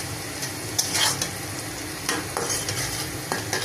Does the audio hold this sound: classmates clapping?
no